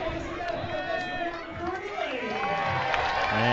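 A baseball crowd at a Brisbane Bandits game against Auckland Tuatara cheers and shouts in a dense, sustained roar that swells toward the end. A commentator's voice is heard over the noise.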